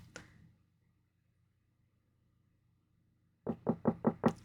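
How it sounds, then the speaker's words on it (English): A knock sounds first, then a long stretch of near-silence with a faint hum, then a clear run of five sharp knocks on a door, close and evenly spaced. "You woke up to the sound of him knocking at your door."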